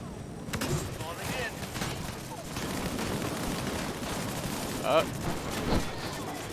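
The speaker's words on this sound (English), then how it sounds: "Here, I'll ambush with my shotgun." Shotgun gunfire during an ambush in the shooter game Disintegration, with dense overlapping shots and a couple of sharper blasts near the end, heard under ongoing talk.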